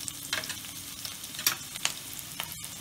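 Onions fry in a pan for village-style egg fried rice, giving a faint steady sizzle with a few light scrapes of stirring.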